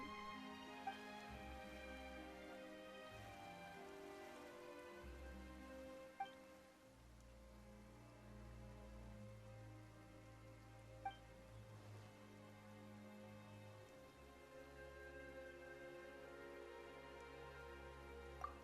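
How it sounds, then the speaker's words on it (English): Rain falls steadily in the video game Genshin Impact, a faint continuous patter under soft layered background music, with a few isolated sharp drips standing out. "Why is it raining all of a sudden?"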